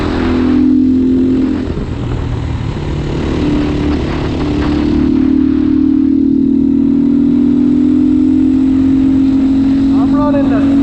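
A GPX Moto FSE300R dual sport motorcycle rides on a twisty paved road, its engine a steady loud drone that shifts pitch as it climbs and eases, with wind rush throughout.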